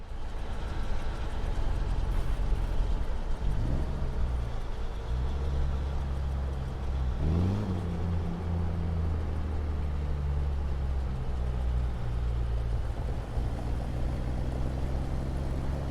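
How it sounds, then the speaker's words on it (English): A heavy truck drives on in American Truck Simulator, a steady low engine drone up close, with a couple of brief rising pitch swells as it works through gears. "Well, I really enjoyed driving this truck."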